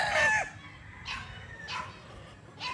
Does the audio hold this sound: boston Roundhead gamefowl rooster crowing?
yes